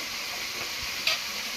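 Meat frying in a pan while it is stirred: a steady, fairly soft sizzle with a single brief scrape or tick near the end.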